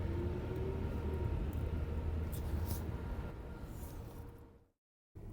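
Porsche Cayenne on a test drive, a steady engine and road-noise drone with a faint rising whine, heard from inside the car, cutting to silence briefly near the end.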